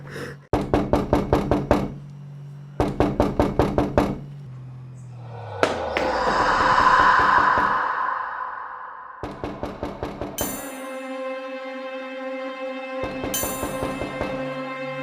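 Rapid bursts of knocking on a door come in several quick runs, loud and close, broken up by a swelling whoosh and sustained ringing tones, with no talking.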